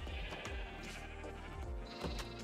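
Sheep bleating in the Minecraft video game, several short repeated bleats from more than one animal over game background sound, fairly loud and close.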